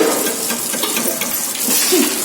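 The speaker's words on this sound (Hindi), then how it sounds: "वाइफ देखो हमारी इधर बर्तन धोने में लगी हुई" Dishes being washed under a running tap in a home kitchen: a steady, fairly loud gush of water with light clinks, no talk.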